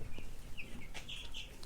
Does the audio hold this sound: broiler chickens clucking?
yes